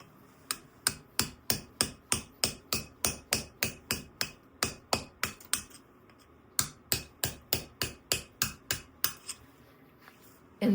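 A sculptor strikes a tooth chisel into stone with a hammer, sharp close metallic taps in a steady rhythm of roughly two dozen blows, one brief pause midway, no voices.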